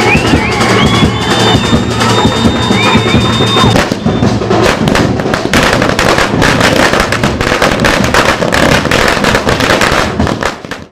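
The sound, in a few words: firecrackers bursting at film release celebration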